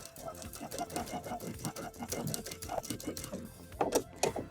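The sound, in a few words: sewing machine stitching a skirt pocket seam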